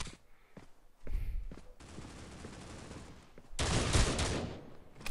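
Gunfire in the mobile shooter Critical Ops: a few sharp shots early, then a sustained burst of automatic fire that grows louder and denser toward the end, close and loud.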